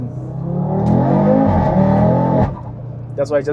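A 2022 Audi RS3 8Y with a Venturi intake revs hard from inside the cabin, a loud rising five-cylinder roar that holds and then cuts off abruptly, followed by a short burst of speech.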